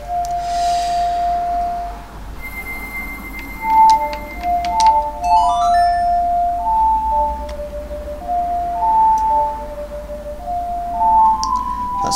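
A melody plays on an ocarina in the Ocarina of Time video game: a slow sequence of clear, sustained tones, some held longer than others, moderately loud with no talking.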